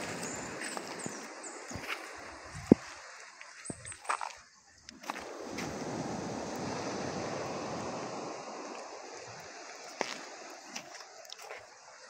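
Sea waves wash in and out in a long, rushing roar, swelling and easing over several seconds, with wind buffeting the microphone and a few sharp knocks nearby.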